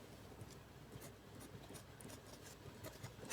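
A pen writing by hand on paper during a maths lesson, soft continuous scratching strokes with brief pauses, heard close and quiet, ending in a louder rustle.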